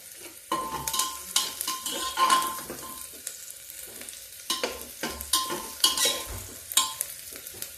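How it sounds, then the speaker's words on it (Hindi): Onions frying in a pan while a utensil stirs and scrapes them, steady sizzle with repeated close scraping clinks and no talking. "प्याज को हमको ज्यादा नहीं जलाना है, लाइट ब्राउन ही करना है।"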